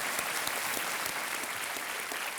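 Studio audience applause on a television quiz show set, loud, dense and continuous clapping filling the room.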